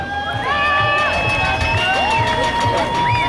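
Outdoor crowd at a BMX rider show at the Roc d'Azur mountain bike event in Fréjus, loud sustained cheering and shouting with whistles and mixed voices.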